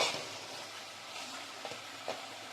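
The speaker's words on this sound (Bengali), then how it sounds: "মশলাটাকে আমি ভালোভাবে কষিয়ে নেব যতক্ষণ না পর্যন্ত তেলটা ছেড়ে দিচ্ছে" Tomato and spice masala frying in oil and stirred in a pan while cooking a rui fish curry with potato and cauliflower, giving a steady soft sizzle with faint scraping strokes near the end.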